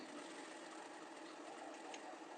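Steady, continuous whir of a sewing machine stitching a shirt placket, close and even throughout with no talk.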